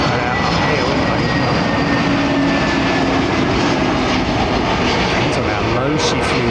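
At London Heathrow Airport, a passing aircraft gives a loud, continuous engine roar that fills the whole stretch, while voices talk faintly underneath.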